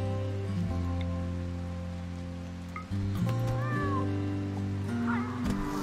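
A berserk cat in the video game RimWorld meows a few times in short, high-pitched cries over a steady game hum and rain-like background noise, faint and brief.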